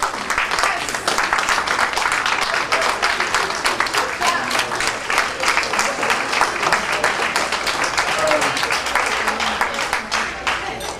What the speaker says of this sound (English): Can we stand up and clap for you, please?